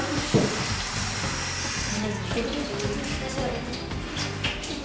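Water pours steadily out of a plastic bottle fitted with a straw, a continuous hissing, splashing flow close by with no glugging, and a voice briefly heard.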